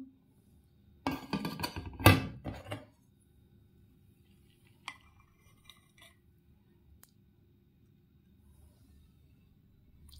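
Metal cutlery clinks against a plate while rice is served for lunch at home, a dense cluster of scraping and chinks early on, then a few isolated faint taps and a quiet stretch.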